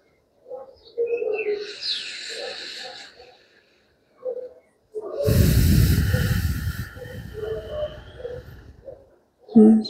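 Deep breathing during a yoga session, slow audible breaths with a long loud rushing exhale through the middle, alternating with a soft-spoken instructor's voice.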